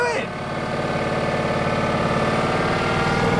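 A Honda lawnmower engine starts and settles into a steady, loud running drone close by, holding an even pitch throughout with no talk over it.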